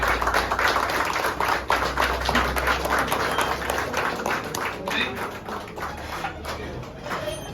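Loud, dense standing applause from a large audience welcoming a speaker at a motivational talk, sustained throughout with some talk mixed in, fading slightly toward the end.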